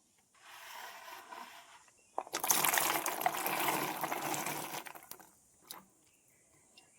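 Broad bean pods being rinsed clean by hand, water splashing and sloshing close by in a steady burst, then trailing off into a few faint drips.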